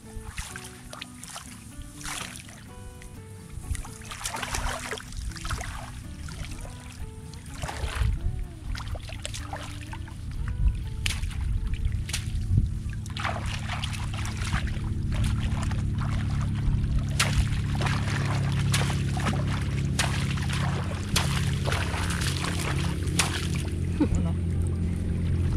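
Water is poured in repeated splashes over someone bathing outdoors on a rural farm. Voices talk throughout, and the pouring grows louder and more continuous toward the end.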